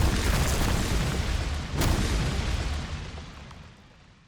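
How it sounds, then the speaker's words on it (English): Booming combat effects from the 2003 Hulk video game: a deep rumbling blast with a sharp crack near the middle, then a long roar that fades away, loud and with no voices. "the booming sound effects made the combat feel very impactful, like you'd expect from the Hulk"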